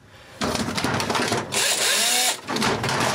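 An old Makita power drill runs in short bursts, whirring up and down with pauses between, close and fairly loud.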